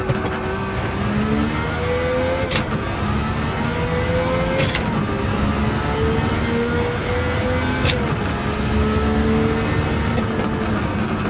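A Nissan Skyline R34 engine in Gran Turismo 7 drones loudly and continuously, climbing in pitch through each gear and dropping sharply at three quick upshifts, with no talk over it.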